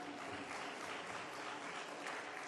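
Faint, distant clapping from a congregation at a Sunday afternoon church lecture on creation science, a soft continuous patter of many hands lasting the whole moment.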